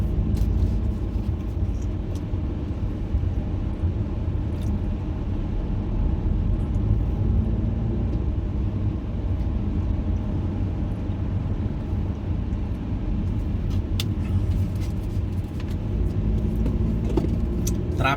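Car interior while driving in traffic on the Northern Ring Road in Riyadh, a loud steady engine and road rumble throughout with faint ticking and passing noise.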